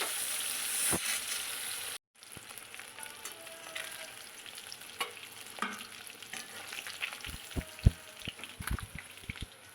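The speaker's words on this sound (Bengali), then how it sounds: "একটু কড়া করে ভেজে নিতে হবে এই শোল মাছ আর লেখা মাছ" Pieces of snakehead and other fish frying crisp in oil, a continuous close sizzle broken by a short silent gap, then scattered pops and spatters.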